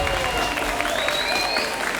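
A crowd applauds at a Combate Global fight event in Miami, with the spectators on their feet. Loud, sustained clapping and cheering fill the arena, with a few whistles rising above the roar.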